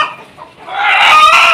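Desi village chickens cluck and squawk close by on a farm, a short burst of fowl calls that swells louder midway, with no talking.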